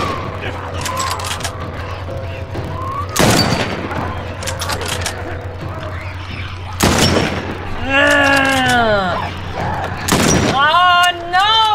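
Gunfire in The Last of Us Part I rings out as a few loud, sharp shots spaced several seconds apart, with tense voices and cries between and after them.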